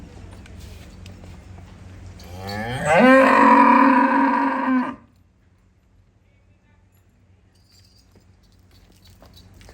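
A single loud, close cow moo lasting about two seconds, rising then holding steady, surrounded by quiet background hum, in Manochahal village, Tarn Taran, Punjab.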